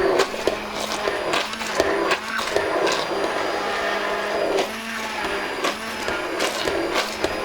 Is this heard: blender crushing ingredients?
yes